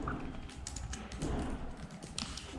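Steady typing on a computer keyboard, a close, continuous patter of key clicks over a low background hum.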